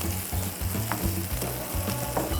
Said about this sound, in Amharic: ሶሴጅ ገብቶ ከሽንኩርቱ ጋርና ከቅቤው ጋር ሶሴጁን እናበስለዋለን።